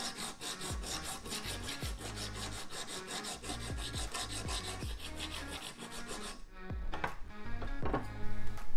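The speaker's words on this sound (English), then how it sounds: "over here I need to file a bit more" A hand file rasps against metal tubing on a bike frame under construction in a framebuilding shop, steady back-and-forth strokes in a continuous rhythm, close and fairly loud, with a few sharper knocks near the end.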